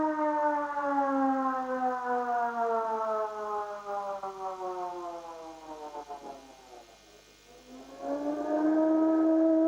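A Russian emergency alert system siren wails with a rich, layered tone that slowly glides downward, dips away briefly, then swells back up loud and steady, with no voices over it.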